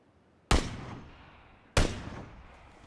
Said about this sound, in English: I hear the bullets going past my ear like the shells